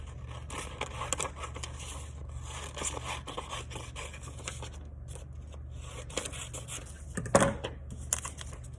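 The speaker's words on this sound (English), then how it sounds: "I'm gonna take this page and I'm gonna cut on the dotted lines." Scissors cutting a paper page along dotted lines, a series of quiet snips and scrapes at close range, with a slightly louder rustle near the end and no talking.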